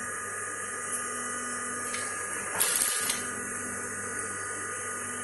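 A sewing machine running steadily while stitching the fall onto a saree, a continuous close motor whir and hum with one brief louder burst partway through, no talking.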